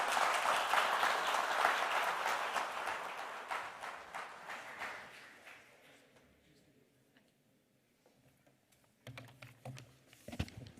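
An audience applauds after a crypto talk in Dubai, a dense clatter of claps that gradually thins and fades out, with a few scattered claps returning near the end.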